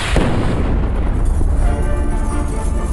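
A Big Bang explosion effect: a loud, dense, sustained roar of deep rumbling energy with a sharp burst near the start, filling the whole moment without talk.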